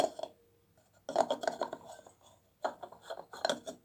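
An E27 light bulb being screwed into a lamp under its shade, heard as close, faint bursts of gritty scraping and rubbing in three short spells separated by brief pauses.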